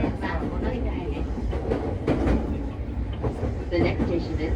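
An E231-500 series electric commuter train, car MoHa E231-529, runs between Suidobashi and Ochanomizu, a loud continuous rumble from inside the car with rhythmic clickety-clack of wheels over rail joints and some onboard voices.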